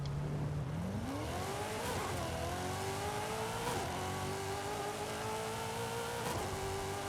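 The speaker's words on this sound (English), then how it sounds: "Just hold down that brake or the e-brake and rev up the gas." A muscle car in the Forza Horizon 5 racing game revs hard against the brake and then launches, its engine note climbing steadily through a long gear, loud and close.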